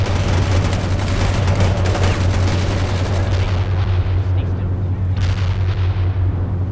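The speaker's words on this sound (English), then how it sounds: "Someone's firing" Battle gunfire and artillery booms from the strategy game World in Conflict rumble loudly and continuously, with a sharp crack or two standing out as the din thins near the end.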